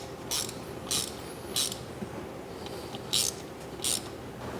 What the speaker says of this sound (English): It'll start getting a little easier to torque these down.